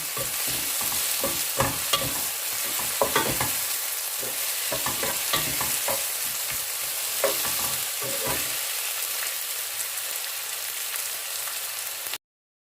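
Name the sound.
onions frying in a pan for chicken curry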